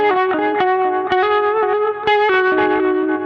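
Yamaha Revstar RS502 electric guitar on its P90 bridge pickup, a few sustained distorted chords and riffs with bright top end and chorus-like effects, loud and alone with no talk.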